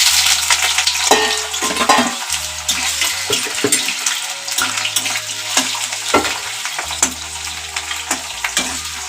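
Cut, washed potatoes drop into hot oil and fry, a loud close sizzle broken by repeated knocks and scrapes of a utensil against the pan, with no talking.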